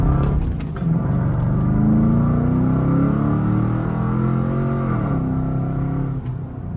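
A Chevrolet Camaro SS drives on an evening road, its engine note rising steadily under acceleration as a close, continuous rumble from inside the car, then easing off near the end.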